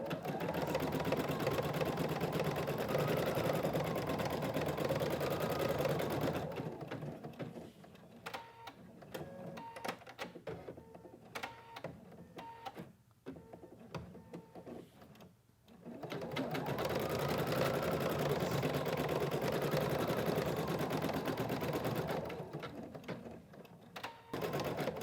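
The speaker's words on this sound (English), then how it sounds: "So the first thing it's going to do when I press the start button is going to outline" Embroidery machine stitching an appliqué outline, rapid rhythmic needle clatter running continuously, dropping to a quieter lull midway before resuming at full pace, close by with no talking.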